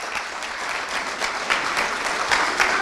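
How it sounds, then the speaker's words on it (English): Enthusiastic audience applause at a startup product development event, dense steady clapping that swells slightly louder in its second half, with individual sharp claps popping out of the crowd. "I want you guys to give him a really, really, loud round of applause"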